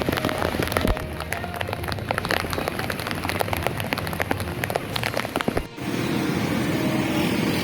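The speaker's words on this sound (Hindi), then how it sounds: "almost cloud burst type condition के बरस रही है बारिश, ऐसा लग रहा है बाल्टियाँ पूर हो रही हैं आसमान से" Heavy monsoon downpour in North Karachi, a dense, steady roar of rain hammering surfaces with constant spattering drops throughout, loud and close with no pauses.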